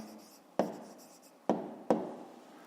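Pen strokes on paper while an answer is written out by hand in a maths exercise: soft scratching broken by three sharper taps or stroke onsets, close and quiet, with no voices.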